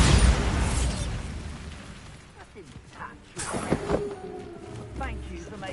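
Bombarda blasting spell in Hogwarts Legacy going off with a loud opening blast that fades into scattered crackles and debris-like clatter, followed by a few smaller pops and a low rumble near the end.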